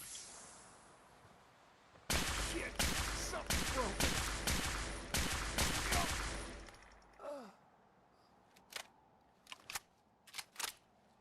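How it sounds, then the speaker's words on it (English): Exploding rifle fire in Fallout 4: a dense, loud volley of about a dozen rapid, booming shots over several seconds, followed by a few scattered, softer pops and impacts. "I was trying to do it with an exploding rifle,"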